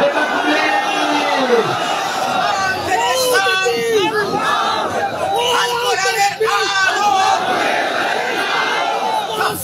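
Large crowd at an outdoor Islamic sermon in Naria, Shariatpur roaring the takbir chant in unison, several loud overlapping shouted waves of voices.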